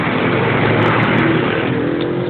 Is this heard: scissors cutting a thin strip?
no